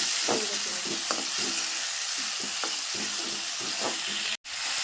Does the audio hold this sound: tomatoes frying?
yes